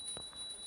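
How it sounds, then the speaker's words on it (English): A small bell is rung during a puja water offering. It gives a brief, steady, high ringing tone that is faint but continuous. "please ring the bell as you do so"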